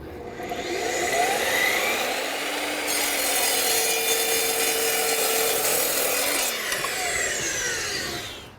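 A power saw that had just cut square steel tubing slices through a Brazilian hardwood deck board in one continuous whining cut lasting several seconds, loud and close, with the pitch steady under load before spinning down.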